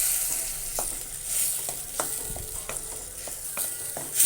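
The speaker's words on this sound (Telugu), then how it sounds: "ఇప్పుడు ఉల్లిపాయలు వేగాయి కదా ఇందులోనే టమాటాను వేసుకుందాము టమాటా పచ్చివాసన పోయే వరకు వేగాలండి" Tomatoes frying with softened onions in a pan for a Telugu ginger tamarind curry, a steady close sizzle with repeated scraping stirs and spoon taps against the pan, no voices.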